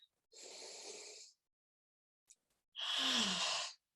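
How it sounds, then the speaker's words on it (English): Two slow, deep breaths during a guided breathing exercise, each a long airy inhale or exhale of about a second, close to the microphone, separated by a quiet pause with a faint tick. "just take a few nice breaths here with me"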